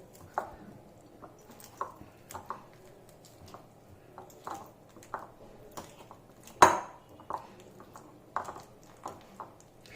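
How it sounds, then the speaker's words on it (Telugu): Three bananas mashed by hand in a bowl for banana burfi, giving soft irregular squishes and light clinks of a utensil against the dish, with one sharper knock midway, faint and close. "ఇప్పుడు మనం తీసుకునే 3 బనానాస్ని స్మాష్ చేసుకుందాం."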